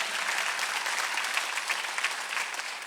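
A church congregation applauding during a Sunday worship service, a steady, even wash of many hands clapping together without pause.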